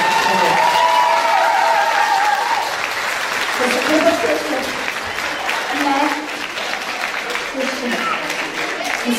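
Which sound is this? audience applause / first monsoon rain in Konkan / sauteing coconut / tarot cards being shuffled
audience applause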